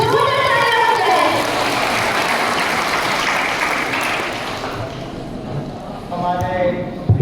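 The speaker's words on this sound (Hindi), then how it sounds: "एक और जोरदार तालियां हो जाए।" Applause from the audience at a diocesan youth Christmas gathering held at a Bishop House, loud and sustained, with a voice speaking over it toward the end.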